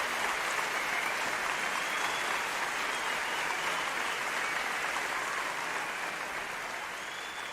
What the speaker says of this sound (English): Can we get a round of applause for my parents here?